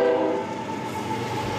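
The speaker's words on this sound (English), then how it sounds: "One sound that you can't escape in Tucson, the trains." Train in Tucson running alongside the tracks, a steady droning horn-like tone with rumbling rail noise, close and fairly loud throughout, no voices.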